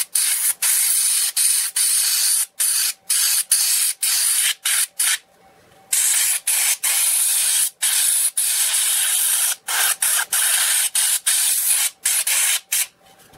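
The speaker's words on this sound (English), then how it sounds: "This is where really the airbrush comes to really be good, because it can cover all that area pretty quick." Airbrush spraying paint onto a coin bank during finishing, a steady near hiss in repeated bursts of a second or so, separated by brief pauses and one longer gap.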